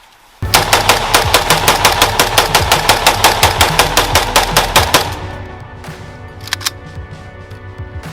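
An RPK-74 light machine gun fires one long sustained burst of sharp, evenly spaced loud shots, then stops, leaving a fading echo and a couple of faint later sounds.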